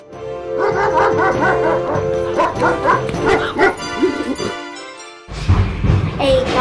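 A dog barks repeatedly in short yips and bow-wows during a children's play, mixed with children's voices. After a brief silent gap the barking and chatter return loudly near the end.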